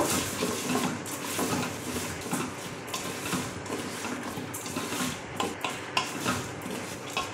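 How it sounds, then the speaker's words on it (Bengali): A spoon mixes thin khichuri ingredients in a metal pot after a little sugar has gone in. The scraping and clinking strokes are close and continuous, with no talking. "সব দেওয়া হয়ে গেছে, ভালো করে মিশিয়ে নেব।"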